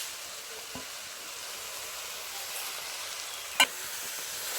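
Spiced chepa shutki, dried fish with chilli and coriander powder, is stirred in a pan over a faint steady sizzle, broken by one soft tap early and a sharp utensil clack near the end.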